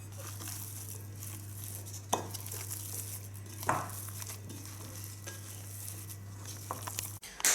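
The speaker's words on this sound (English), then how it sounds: "I'm gonna mix all of that, combine all the flavors together" Meatball mixture seasoned with nutmeg is mixed by hand in a bowl, giving soft, wet squishing and a few sharper knocks against the bowl over a low steady hum, close and without talk.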